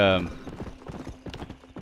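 A horse's hooves in Red Dead Redemption clip-clopping in a quick, steady rhythm at close range, briefly preceded by a short vocal sound.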